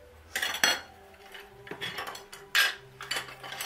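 A cheesecake batter with baking powder, salt and lemon zest is beaten in a bowl, giving bursts of utensil clinks and scraping against the bowl in short uneven strokes, close and fairly loud.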